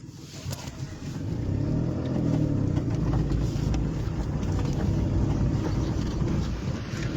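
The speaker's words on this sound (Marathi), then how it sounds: "गाडी थोडी पुढे घ्या." A car engine runs steadily and close by as the vehicle pulls slowly forward on a rural road in Chandwad taluka, Nashik district, a low rumble that swells slightly and holds with no talk over it.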